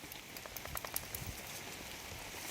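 Steady, faint rain patters on a nipa hut with scattered drop ticks in a soft continuous hiss. Nobody speaks.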